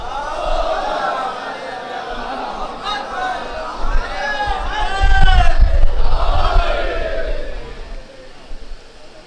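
A large crowd at a religious gathering at a dargah chants in loud unison, voices swelling into a dense collective roar that peaks in the middle before easing off over a steady murmur of people.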